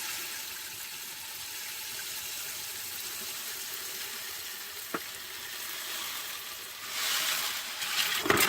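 A hot melted mixture for bird seed blocks is poured, making a soft, continuous hiss and sizzle. A brief knock falls midway, and the noise swells toward the end as the pour picks up.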